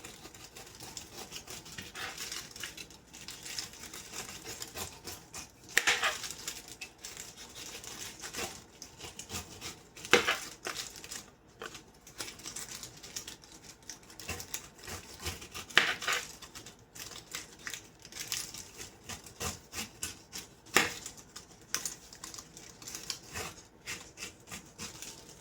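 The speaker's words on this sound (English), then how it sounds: "Holding it by the stem, the whole thing, I'm just going to start chopping." A knife chops and scrapes through a whole pineapple held by its stem on a cutting board, with irregular rasping strokes and occasional sharper knocks, close and moderately quiet with no talking.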